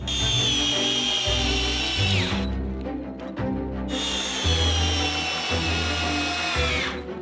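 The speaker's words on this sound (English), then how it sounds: "We drill it into each bar." Power drill driving into metal bars to fix a large metal ring on top of them, two loud whirring bursts close by with a brief pause between them.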